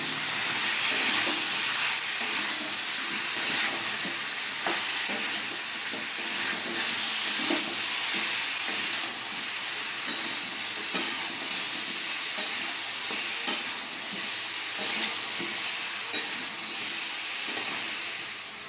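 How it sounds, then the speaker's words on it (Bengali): Chicken stew with onion, tomato and vegetables is stirred in a hot pot, giving a constant sizzling hiss with soft scraping strokes throughout. "আমি হালকা করে নাড়িয়ে নেব"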